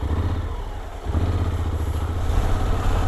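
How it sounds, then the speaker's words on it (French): A Honda X-ADV scooter ridden on snow, its engine a steady low throbbing hum close by that dips briefly then picks up again, with no one speaking. "est-ce que l'XADV roule par temps de neige? Eh ben oui. Et hyper facilement d'ailleurs."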